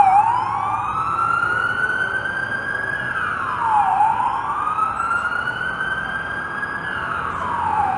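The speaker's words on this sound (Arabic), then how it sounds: "تفسح الطريق لمركبة الشرطة هذه" A police car siren wails, sweeping up and down in long, slow cycles, loud and steady over a constant rumble of road traffic on Yonge Street in North York, Toronto.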